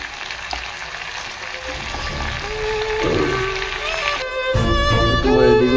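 Potatoes tipped into a hot pan of oil start a frying sizzle that swells as they land, with a stirring clatter and a voice speaking over the cooking.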